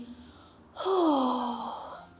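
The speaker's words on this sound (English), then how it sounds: "breathing out, relaxing." A long, slow exhale through the mouth during a yoga breathing exercise follows a brief pause, a close, loud, breathy rush that gradually fades.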